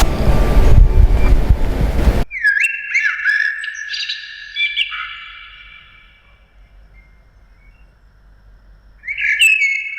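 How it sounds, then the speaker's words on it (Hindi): Birds chirp and trill in a quick run of bright, clear calls in the garden of Humayun's Tomb, Delhi, following a loud gust of wind noise, then fall quiet before a fresh burst of calls. "अंदर एंटर करते ही पंछियों की इन किलबिलाहट ने मेरा तो मन मोह लिया"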